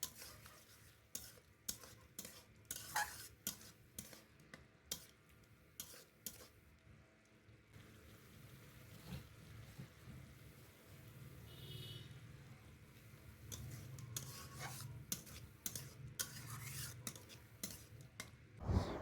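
Shrimp stirred into fried spice paste in a pan, quiet scraping and stirring strokes with light clinks of a utensil against the pot, faint and intermittent over a low background hum.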